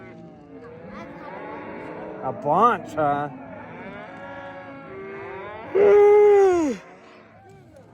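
Cattle on a cowboy cattle drive across the Utah desert moo in several long, drawn-out calls, one especially loud and near, while a person speaks briefly in between.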